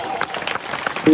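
An audience at a kirtan claps together in a dense burst of applause mixed with a voice speaking over it.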